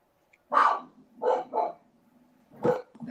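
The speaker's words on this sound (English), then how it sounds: "There go my dogs." Dogs bark in four sharp, separate bursts, close and clear, with quiet gaps between them and no talking.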